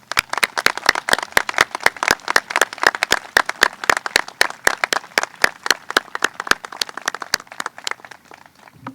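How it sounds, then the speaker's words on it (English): Scattered hand claps from an outdoor naturalization ceremony audience on the Lexington Battle Green: a thin, steady patter of individual claps lasting about nine seconds, with no voices over it. "Please give yourselves and each other a round of applause."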